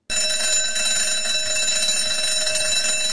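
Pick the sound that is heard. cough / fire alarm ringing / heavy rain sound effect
fire alarm ringing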